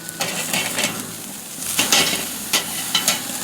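Steak sears in a hot frying pan after dry brining, a steady sizzle with sharp scraping and clinking bursts of utensil against pan, no voices.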